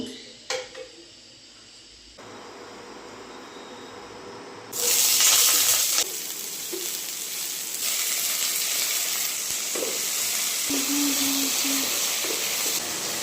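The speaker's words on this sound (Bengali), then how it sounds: "এই দুটো সবজি আমি ধুয়ে পরিষ্কার করে আনি।" Vegetables are rinsed under a running tap in a home kitchen. The water starts abruptly a few seconds in and then pours steadily as a close, continuous hiss to the end, with faint clinks of handling.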